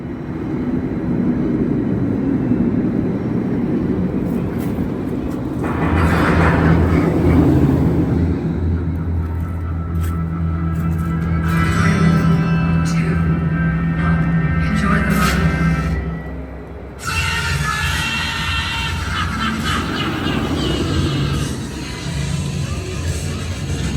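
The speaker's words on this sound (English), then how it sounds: "It looks like they're test running full throttle because there's nobody on the ride." An empty amusement park ride at Six Flags runs at full throttle, a loud steady roar and rumble rising and falling in the distance, with someone talking over it.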